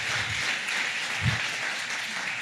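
A church congregation applauds during a Spanish-language sermon. The clapping is steady and blended, with a brief low thump partway through.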